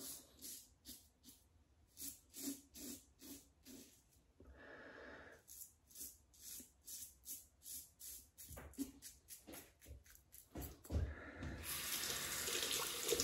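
Double-edge safety razor rinsed under a running bathroom tap: rapid rhythmic taps and swishes against the sink, a brief steady water stream, then a louder continuous gush of tap water at the end, all close and quiet.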